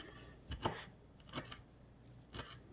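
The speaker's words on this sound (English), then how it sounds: "So now I'm going to take a good bit of cilantro and chop it up." Knife chopping a bunch of rinsed, air-dried cilantro on a cutting board for a July 4th meal, heard as three distinct close thumps spread apart over a soft background.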